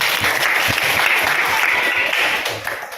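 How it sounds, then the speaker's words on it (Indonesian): Loud, dense applause from a classroom of students during a retail business administration lesson, a close, continuous patter of clapping that fades slightly at the end. "tepuk tangan di sini"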